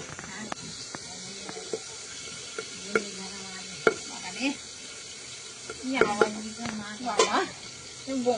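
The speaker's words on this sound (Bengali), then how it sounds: "ফাটা শুরু হয়েছে তেলটা, তাই এই গায়ে এসে পড়েছে একটু করে না।" Fish frying in hot oil that spatters and pops, sharp irregular crackles over a low sizzle, with people talking in Bengali throughout.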